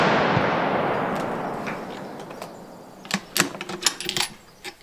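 A rifle fired during a long-range scope test gives a loud blast whose echo rolls away over a few seconds. Several sharp metallic clicks and clacks follow nearby.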